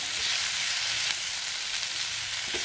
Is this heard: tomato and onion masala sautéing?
yes